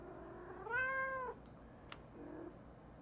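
A cat gives one clear, drawn-out meow at close range, followed by a short fainter mew and a small click in an otherwise quiet room.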